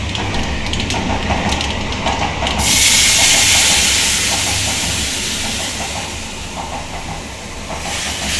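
Mustard seeds and dried red chilli pieces in hot oil in a kadai for a mango chutney tempering: continuous crackling frying, then a sudden loud hissing sizzle that stays strong and gradually eases.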